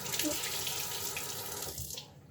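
Running tap water pours steadily into a kitchen sink as a dishcloth is rinsed under it, a continuous close hiss of flowing water that cuts off near the end.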